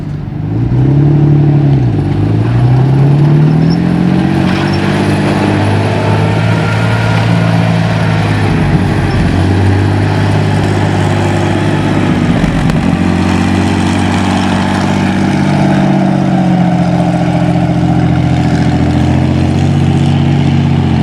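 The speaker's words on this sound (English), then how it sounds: "it was really powerful petrol engine and really gave that tank a hell of a lot of welly" A Comet tank's powerful Meteor petrol engine runs steadily and loud up close, a deep rumbling drone with rising and falling revs throughout, no voices.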